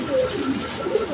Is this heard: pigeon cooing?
yes